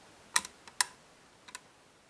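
Picking a six-lever Mottura lock produces a few sharp, close metallic clicks, two quick pairs followed by a fainter pair, over an otherwise quiet background.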